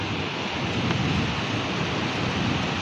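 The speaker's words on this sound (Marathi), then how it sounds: "डावीकडून उजवीकडे हा पाऊस पडतो आहे आणि उजव्या साईडला सरळ पाऊस पडतो आहे" Heavy rain pours in Pune during a stormy downpour with strong wind, a dense, steady roar of falling water that fills the whole stretch evenly, with no voices heard.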